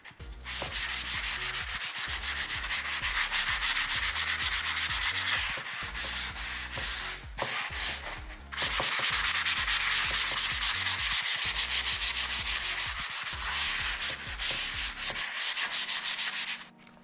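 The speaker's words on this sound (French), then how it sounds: "j'ai fini de passer l'éponge abrasive" Furniture being rubbed down with an abrasive sponge, a continuous scratchy rasping in long back-and-forth strokes with a few short pauses, close and fairly loud with no voices.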